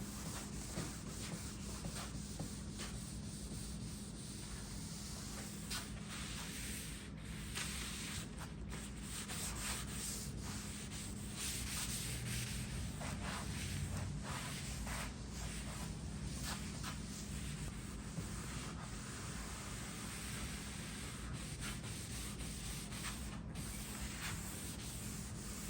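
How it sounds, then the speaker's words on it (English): Lint-free cloth wiping excess finish off a vintage mahogany furniture piece, a steady soft rubbing and swishing that runs faint and continuous throughout, close by and with no talk. "I'm using a lint-free cloth, and I'm just going to go over it and pull off the excess"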